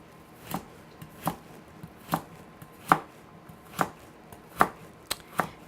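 A knife chops potatoes into tiny cubes on a board, about eight crisp, evenly spaced strikes landing close and clear over a quiet background.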